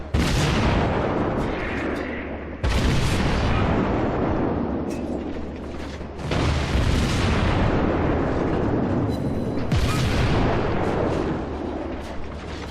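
Naval guns fire in World of Warships: several heavy, booming salvos in sequence, each a loud, sharp blast that decays into a long rumbling tail.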